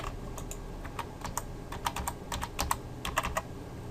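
Someone types a password on a computer keyboard, a quick, irregular run of crisp close key clicks with a few louder strokes over a quiet room.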